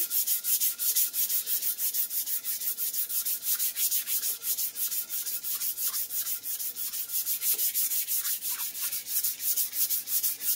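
Steady, rhythmic sanding of a wooden guitar body, a dry scratchy rasp repeating in quick strokes, close and continuous throughout with no voices.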